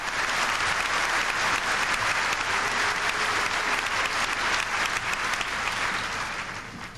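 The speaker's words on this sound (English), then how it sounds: "Let's give both girls a round of applause." Loud, dense applause from a crowd at a 1997 high school commencement ceremony, filling the hall steadily for several seconds before easing slightly at the end.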